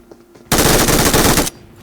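A dense one-second burst of rapid automatic gunfire in PUBG Mobile, loud and close, cutting in abruptly and stopping just as suddenly against a quiet background.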